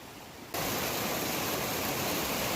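Creek water rushes steadily as a broad, even flow after a short quieter start, continuous and moderately near.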